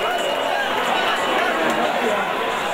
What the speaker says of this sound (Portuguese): E olha só o barulho, faz a festa aqui a pequena torcida de Santa Luz.